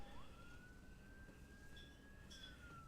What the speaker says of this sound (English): That sounds like fire or an ambulance. Sounds more like an ambulance.